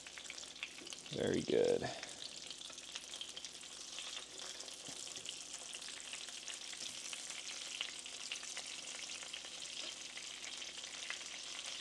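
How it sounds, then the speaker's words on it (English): Pieces of white, flaky grouper sizzle steadily as they fry on an electric stove top, a continuous close crackle with a brief louder stir early on and a short spoken remark. "frying white, flaky fish."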